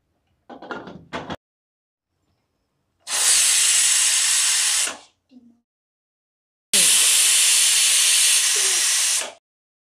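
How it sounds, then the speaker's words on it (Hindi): Two long, loud bursts of hissing steam from a pressure cooker whistle on a gas stove cooking mixed vegetable tehari, each lasting about two seconds, with brief clatter and a short sound between them. "अब मैं इसमें दो सीटी लगा देती हूँ कुकर बंद करके"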